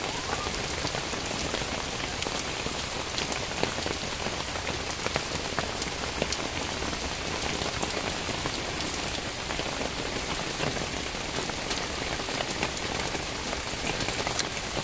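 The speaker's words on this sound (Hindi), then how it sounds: "बहुत प्यारी प्यारी बारिश हो रही है" Heavy rain pours steadily onto surfaces, a dense, even hiss with scattered close drops pattering through it, loud and unbroken from start to finish with no voices.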